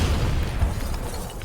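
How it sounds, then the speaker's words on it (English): A heavy explosion going off in a Call of Duty Black Ops 3 cutscene, a loud, deep, rumbling blast that fills the whole short moment with dense low booming and crackling debris. "They're about to detonate!"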